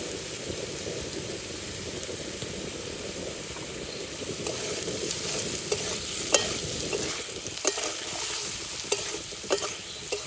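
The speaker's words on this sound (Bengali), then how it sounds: "শুধু আলুগুলোই ভেজে নেবো লবণ আলু একটু ভেজে নেবো" Potatoes frying with salt in a pan give a dense, rain-like sizzle that runs continuously, with occasional stirring scrapes and clicks near the end and no one speaking.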